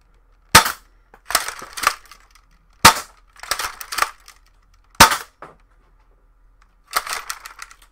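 A Dart Zone Pro blaster fires half-length bamboo darts in a series of sharp, loud snaps. The shots come singly and in quick doubles and triples with short pauses between bursts.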